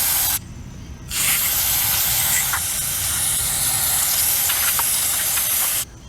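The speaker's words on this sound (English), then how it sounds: "take a regular can of carburetor cleaner and spray this" A regular can of carburetor cleaner sprays onto a Yard Machines 4HP Briggs & Stratton lawn mower carburetor, one long, loud, steady aerosol hiss lasting about five seconds after a short burst and brief pause.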